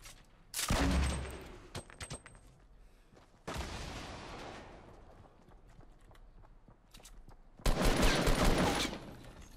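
Gunfire in the Fortnite Battle Royale video game, with three loud bursts of rapid shots separated by quieter stretches of game noise.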